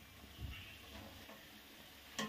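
Pendki, a village-style snack, fries in hot oil with a steady low sizzle and occasional stirring bumps, plus a brief louder clatter near the end; no talking.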